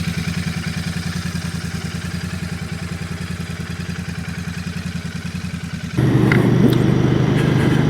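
A Royal Enfield 650 Bear motorcycle engine runs steadily while riding with a low, pulsing rumble, then shifts to a louder, smoother drone near the end, close to the microphone.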